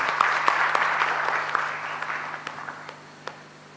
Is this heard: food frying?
no